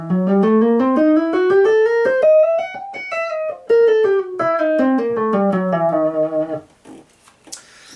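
A bright plucked Chapman Stick runs a dark altered Locrian scale up and then back down, note by note, ending with a few scattered sounds.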